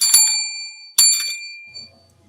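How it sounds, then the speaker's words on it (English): An old-time radio drama telephone bell rings twice in quick succession, each bright metallic burst fading before the next, then a faint low murmur at the end. "I was greeted by a sound very much like that of a phone ringing."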